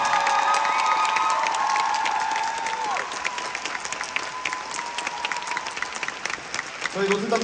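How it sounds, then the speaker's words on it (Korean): Theater audience applauding and cheering for the dancers at the final Seoul performance of the Korean-language Notre-Dame de Paris musical, a dense sustained roar of clapping with shouts and a sung or spoken tone over it, fading slightly near the end. "여러분들, 정말 큰 박수 부탁드리겠습니다"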